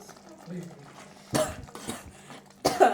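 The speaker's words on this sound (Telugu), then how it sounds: "స్మెల్కి అయితే దగ్గు వస్తుందండి పిల్లలకి" A child coughs, irritated by the smell of fish curry cooking, in two short sharp bursts close by, with faint kitchen clatter and voices in the background.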